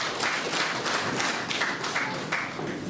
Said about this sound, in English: everyone give yourself a big clap, a big round of applause for everyone.